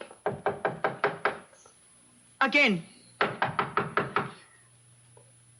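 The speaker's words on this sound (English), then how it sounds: "knock on the door" A door in a radio drama is knocked on in two quick sets of about six sharp raps each, separated by a brief spoken word and a short squeal.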